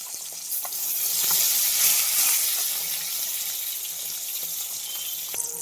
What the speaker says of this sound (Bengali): উল্টিয়ে আরেকটু ভেজে নেব